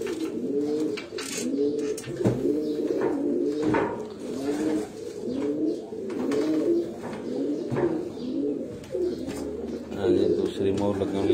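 Pigeons on a rooftop loft in Gujrat coo repeatedly in rhythmic, throaty bursts, several birds overlapping close by, with a few faint chirps and a brief voice near the end.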